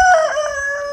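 A rooster crows in a single loud, close call that fills the whole moment with a strained, wavering tone, with no voices over it.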